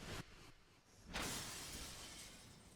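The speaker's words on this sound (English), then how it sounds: "Smashes through the window and off into the night." Window glass smashing in the video game Death Mark: a loud shatter bursts in, then a bright spray of breaking glass trails off over about a second and a half.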